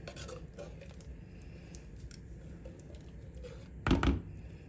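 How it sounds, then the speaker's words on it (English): Dishes and cutlery clatter in a home kitchen while a bowl is taken out for a coconut poke cake, with scattered clinks and taps and then a louder clunk of crockery near the end. "Let me get a bowl to put this in here."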